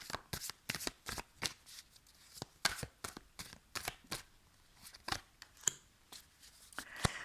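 Tarot cards are shuffled and drawn by hand in a weekend full-moon reading. The crisp riffles, flicks and slaps come close and in irregular bursts, with quiet gaps between them.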